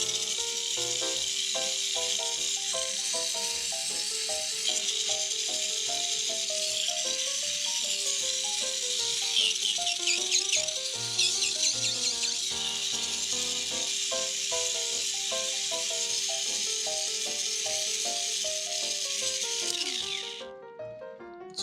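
Mini 4WD VZ chassis with its motor and gears running, a continuous high whirring rattle with a steady tone, close and constant before cutting off near the end.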